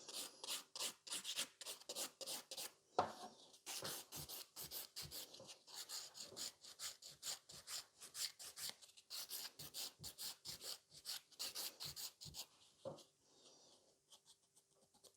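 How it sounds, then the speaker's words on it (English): Nail filing with a blue 100/180 grit file blending old product into the natural nail: rapid, close, rhythmic back-and-forth rasping strokes in bursts, with a few brief pauses between runs. "I'm working with the 100 by 180 grit file, the blue one"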